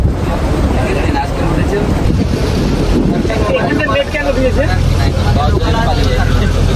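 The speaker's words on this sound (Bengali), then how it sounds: "সামনে দিয়ে জাহাজটা যাচ্ছে, বাংলাদেশের জাহাজ এটা" A Bangladeshi cargo ship passes on a river in the Sundarbans, a low steady engine rumble beneath strong wind buffeting the microphone and lapping water.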